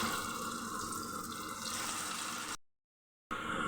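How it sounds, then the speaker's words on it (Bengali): Vegetable pakoras sizzle in hot oil with a steady, dense crackling hiss that stops abruptly into brief silence near the end, then resumes. "আমি এখন ছেড়ে দিব তেলের মধ্যে পাতুরাগুলো"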